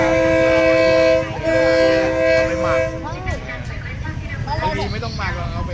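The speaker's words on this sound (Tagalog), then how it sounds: "finally parating na yung train" A train arriving at Maeklong Railway Market in Thailand, sounding a long, loud, multi-tone horn up close before the blast gives way to rumbling wheels and squealing, with people talking over it.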